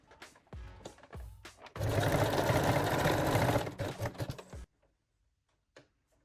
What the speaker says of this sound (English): secure the strap with a straight stitch